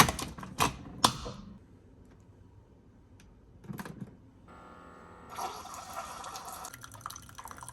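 A Keurig coffee maker brewing a Tim Hortons original blend pod: a few sharp clicks and taps up front, then a steady hissing, trickling pour that starts partway through and runs to the end, with no talking.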